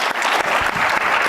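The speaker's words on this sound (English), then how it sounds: "Let's give them a round of applause." Audience applause at an executive keynote conference, a dense burst of many hands clapping at close range, steady and loud across the short span.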